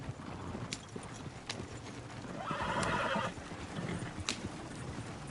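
A horse in Red Dead Redemption 2 gives a short whinny partway through, with hoof clip-clops and faint ambient game sounds around it, fairly quiet overall.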